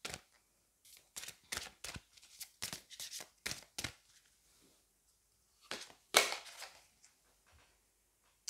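Oracle cards for the heart chakra shuffled by hand in a series of quick, crisp riffling bursts with short pauses between them, close and fairly quiet, with no talk.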